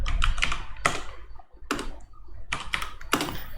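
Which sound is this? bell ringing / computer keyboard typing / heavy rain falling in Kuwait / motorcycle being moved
computer keyboard typing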